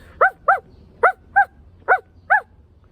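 A person imitates a dog's bark with their voice, six short, evenly spaced yapping barks, loud and close with quiet gaps between.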